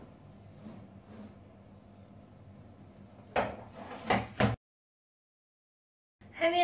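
A tarte tatin is turned out of its pan onto a serving dish: after quiet room tone, a cluster of close, muffled clunks and scrapes of pan on plate lasting about a second, then silence and a final knock.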